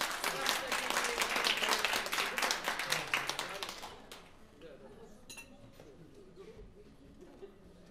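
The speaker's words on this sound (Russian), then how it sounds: "под ваши бурные аплодисменты" Audience applause follows a brass band's announcement of a signature piece, dense loud clapping for about four seconds that then thins to scattered claps and faint murmur.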